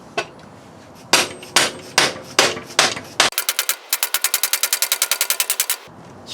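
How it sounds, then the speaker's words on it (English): Sharp metallic hammer blows strike an 8mm socket to knock out a seized part on a Yamaha WR250 motorcycle: several spaced heavy whacks, then a fast, even burst of about twenty quick hits, close and loud. "Whacking it on the other side with the 8mm socket."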